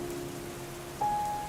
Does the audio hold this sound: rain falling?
yes